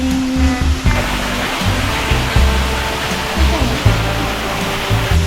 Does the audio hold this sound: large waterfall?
yes